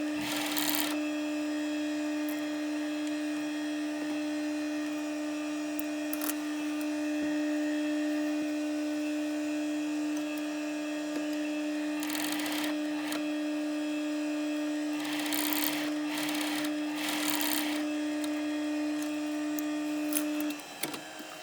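A blind stitch machine hemming a suit jacket sleeve hums steadily at close range with a constant motor tone, broken by a few brief rustles of fabric handling and no speech.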